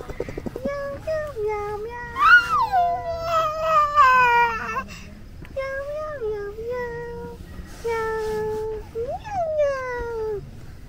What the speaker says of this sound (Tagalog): Pusa ba talaga to?